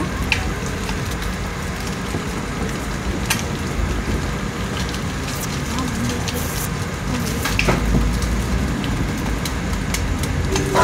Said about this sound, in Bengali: এবার ভালো করে মশলাগুলিকে ভালো করে ভেজে নেব।